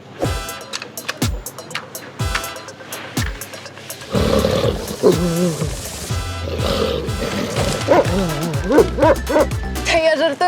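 Loud, sharp dog barks in a quick irregular series, followed by deeper growling, roaring barks and snarls that fill the rest of the stretch.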